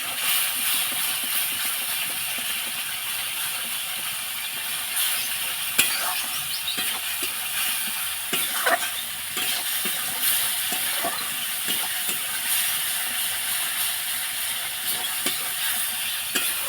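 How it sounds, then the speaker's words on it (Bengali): Spice paste stir-fried in a pan gives a steady low sizzle with intermittent scraping and stirring knocks, fairly quiet and continuous, with a breeze noticeable in the background. "এই যে মশলা দিয়ে দিয়েছি, মশলাটা একটু কষিয়ে নিই।"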